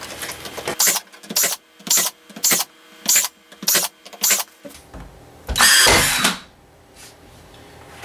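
A Ryobi P325 AirStrike 16-gauge cordless finish nailer driving nails into closet trim: seven sharp, evenly spaced bursts in quick rhythm, close and loud, followed by one longer, louder blast.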